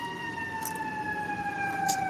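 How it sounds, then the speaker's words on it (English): Siren wailing in the background, three steady stacked tones gliding slowly downward, moderately loud and continuous with faint traffic rumble beneath, no voices. "even though the sirens in the background"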